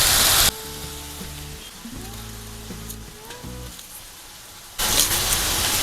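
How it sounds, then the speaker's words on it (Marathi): Onion and tomato fry in a pan while Maharashtrian misal is cooked, with a loud, close sizzle at the start and again near the end, and a quieter stretch with a steady tonal hum in between. "इथे कांदा टोमॅटो परते"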